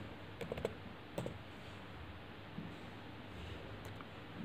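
Typing on a computer keyboard, a few quick, faint clusters of key clicks near the start and then sparse single taps over a quiet, hissy room.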